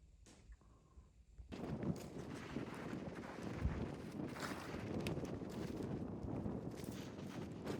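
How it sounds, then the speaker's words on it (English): Wind blows outdoors near a cabin in the forest, starting quiet, then a strong gust rushing in and buffeting the microphone as a steady, loud roar. "Super windy today."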